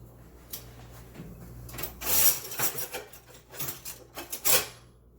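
Kitchen utensils rattle and clatter while a spatula is fetched from among them, with a series of short, close metallic and wooden clinks and scrapes in irregular bursts that is fairly quiet overall.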